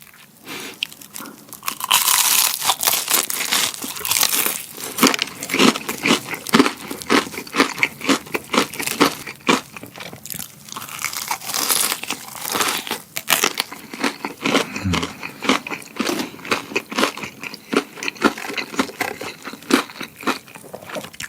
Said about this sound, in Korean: 엄청 바삭한 소리가 막 빡빡 나지 않아요?